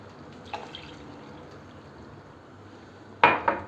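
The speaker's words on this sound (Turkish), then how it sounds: "Salça kavrulduktan sonra 2 su bardağı Su ilave edelim." Water poured into fried tomato paste in a pan for moussaka sauce, heard as a faint low wash with a couple of soft splashing drips near the end.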